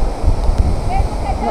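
Bomod-ok Falls in Sagada rushes as a continuous wash of falling water, with a person talking over it and brief faint tones.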